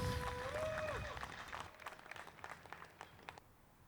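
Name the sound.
crowd cheering a disc golf shot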